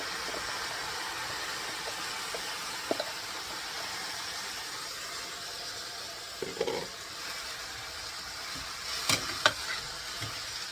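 Soaked rice for paneer peas pulao is stirred into frying biryani masala in a pan over low-to-medium heat, giving a steady soft sizzle with a few light scraping stirs.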